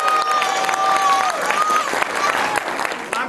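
A cinema audience applauding at a movie screening, dense steady clapping throughout with a voice over it and some faint cheering.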